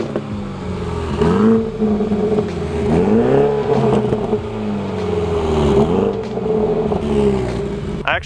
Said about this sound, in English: This is the M Performance exhaust, and I just want you guys to hear it.